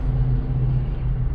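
A Chevrolet Cavalier RS rolls slowly into a showroom, its engine giving a steady, close low rumble with a faint whir and no voices.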